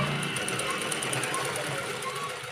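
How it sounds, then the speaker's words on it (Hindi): A sewing machine stitches fabric for a baby princess gown, running close and steady with a continuous motor hum and a fast, even needle clatter for the whole stretch. "उसी तरीके से आगे डाली सिलाई, उसी तरीके से पीछे भी सिलाई डाल देंगे"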